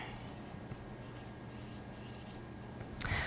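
Pen scratching steadily across paper while a math area integral is written out by hand, a continuous close, faint scribble with a brief louder stroke near the end.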